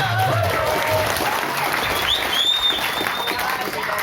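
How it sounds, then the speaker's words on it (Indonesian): An audience at an Islamic religious gathering at a pesantren in Manonjaya applauds steadily, a dense continuous wash of clapping throughout, with some voice underneath. "Tepuk tangan heula"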